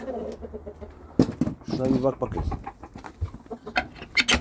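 A rooster, full brother of another prized bird, crows and clucks close by in short bursts, with other fowl sounds mixed in and someone speaking over them.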